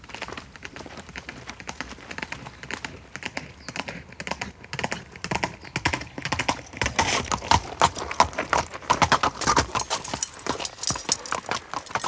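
Horse hooves clip-clop at a walking pace in a medieval knight's tale, a dry, irregular clatter that grows busier and louder in the second half, with no speech over it.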